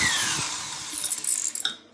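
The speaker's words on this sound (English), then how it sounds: "Can you hear my drill go under low?" Power drill whirring at low speed as it spins a Mercedes 560SL alternator on a bench test, a steady mechanical whine that tapers off with small ratcheting clicks near the end, close and alone.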